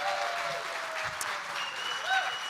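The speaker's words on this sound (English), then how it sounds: "now you can clap" A conference audience at a summit session claps in a soft, continuous patter that holds steady and slightly distant, with faint voices and a brief whistle-like tone rising over it.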